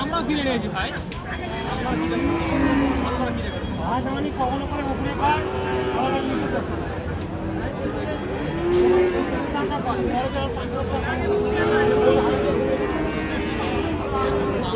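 Cattle, cross and Friesian bulls and calves, moo repeatedly, some low calls near and some farther off, over a steady din of crowd chatter and people talking at the busy Ambari cattle market in Dinajpur.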